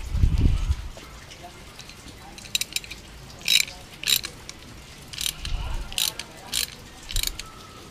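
A ratchet wrench loosens the exhaust gasket bolts on a Yamaha XMAX 300 scooter, with several short bursts of clicking close by, a few low thumps, and quiet background sounds between bursts.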